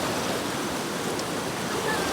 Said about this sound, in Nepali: के साह्रो खोला परेको यहाँ